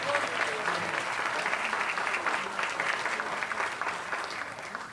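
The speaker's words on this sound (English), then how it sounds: "How about another round of applause for this great band?" An audience at an outdoor lakeside park concert applauds a band, a dense, steady wash of clapping that holds for several seconds and tapers slightly toward the end, no voices standing out.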